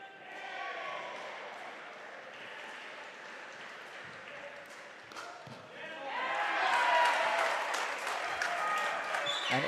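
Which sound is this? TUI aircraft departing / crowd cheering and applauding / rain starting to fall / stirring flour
crowd cheering and applauding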